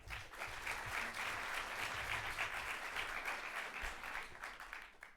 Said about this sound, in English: So give your hands to some applause to Dmitry.